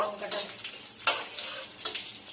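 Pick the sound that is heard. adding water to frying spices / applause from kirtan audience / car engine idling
adding water to frying spices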